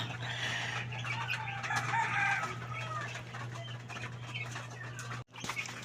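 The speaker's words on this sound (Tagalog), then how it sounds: "patukayin muna natin yung ating mga manok" A group of chickens clucking and chattering busily up close while being fed, with a steady low hum underneath and a brief dropout near the end.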